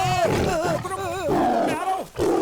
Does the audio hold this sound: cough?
no